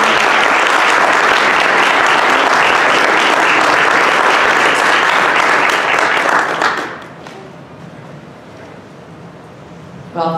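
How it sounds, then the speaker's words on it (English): A room full of people at a writers' panel presentation applauds the panelists, loud sustained clapping for several seconds that fades out abruptly, leaving quiet room tone before a brief sound at the end. "Please give them all a round of applause."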